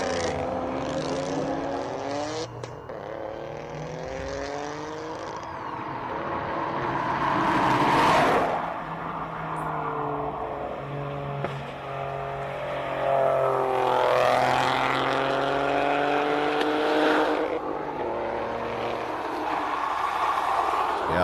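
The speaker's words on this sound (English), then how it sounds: "The noise that this thing makes, if you consider that it's, 3-cylinder?" A three-cylinder race car engine at the Simola Hillclimb, loud and sustained, rising and falling through gear changes as it climbs past, with commentary voices underneath.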